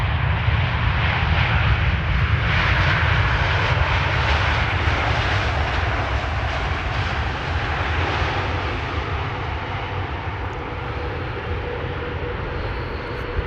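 KLM airliner returning from New York JFK and arriving on Polderbaan runway 18R at Amsterdam Schiphol, its engines a loud broadband roar close by that slowly eases off.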